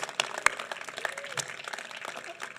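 An audience at a school graduation ceremony in Phoenix, Arizona applauds the teachers, with scattered, fairly faint clapping that stays sparse and uneven across the brief moment.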